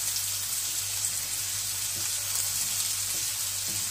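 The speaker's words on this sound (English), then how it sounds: "Now these mushrooms are nicely fried." Mushrooms fry in a pan for fried rice, giving a continuous close, bright sizzle with steady crackle and a low hum underneath, no voices.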